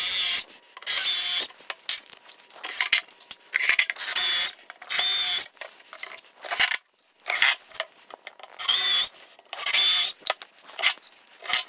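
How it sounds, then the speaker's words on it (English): Screws are driven into a wooden mobile cart with a power drill in short repeated bursts, each a loud whirring run separated by brief pauses, close by. "we're just going to fasten it down with a few screws"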